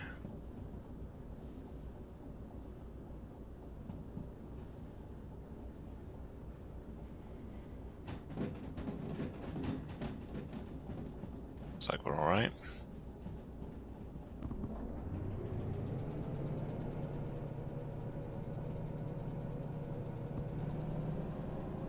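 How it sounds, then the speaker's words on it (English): Small shunter locomotive straining to haul a heavy freight train in the Derail Valley train simulator, a low engine rumble with clanking and wheel noise that swells into a louder, sustained laboring drone. "My poor little shunter is struggling."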